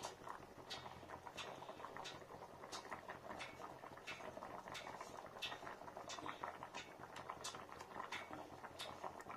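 Thick curry bubbling and popping at a steady simmer in a pan, close by, with soft irregular plops throughout and no voices.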